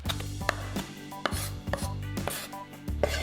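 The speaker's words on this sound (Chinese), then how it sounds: "切点我自己种的有机大葱，叶子不要，只要前面的段，切成小粒的状态。" A knife chops home-grown organic scallion stalks into small pieces on a board, giving about a dozen sharp, close knocks in an uneven rhythm with no talking.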